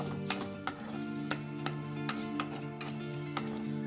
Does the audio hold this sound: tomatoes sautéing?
yes